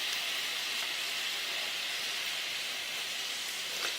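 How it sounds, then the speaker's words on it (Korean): A pot of water coming to a boil for beef, giving off a soft, steady bubbling hiss, faint and unbroken, with no talking. "옆에 끓기 시작한다."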